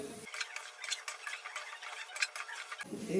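Carrot halwa, gajar ka halwa, is stirred in a pan with a spoon, light scraping and soft clinking strokes repeating steadily at close range, quiet, with no voices.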